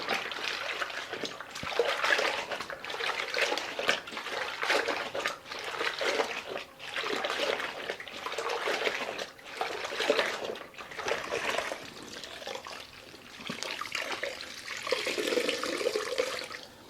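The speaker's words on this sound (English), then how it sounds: "we're going to rinse out the mop here in this solution" A mop is rinsed in a bucket of pine cleaner solution, with continuous sloshing, trickling and splashing water close by, in steady waves, and no talk.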